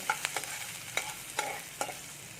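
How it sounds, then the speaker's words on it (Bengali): Chopped onion fries lightly in a pan with cumin and green chilli, a steady close sizzle broken by several sharp stirring scrapes, with no voices. "পেঁয়াজটাকে একটু আমি হালকা ভেজে নেব"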